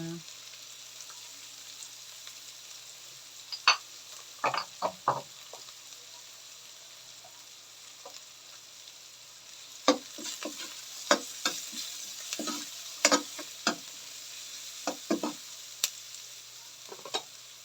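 Cabbage and carrots stir-fried in a pan, a steady low sizzle broken by repeated sharp scraping and tossing clatters of the spatula that come in irregular clusters, with no talk.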